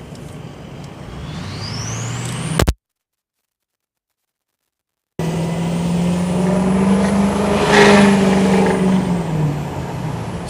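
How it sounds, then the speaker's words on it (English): 2007 Ford F-250 pickup with a 4-inch straight exhaust rumbles deeply while pulling away, a rising turbo whistle climbing over the engine note; after a brief gap the low drone returns and swells as the truck accelerates. "It's 4-inch straight exhaust, so that gives a little rumble like a V8, and then the turbo whistle is pretty"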